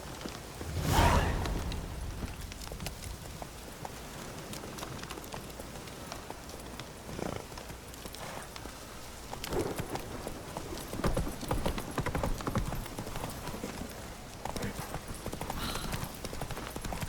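Roach, the horse from The Witcher 3, trots with clear, close clip-clop hoofbeats in an even rhythm, alongside soft rain-like patter and a faint whinny in quiet game ambience.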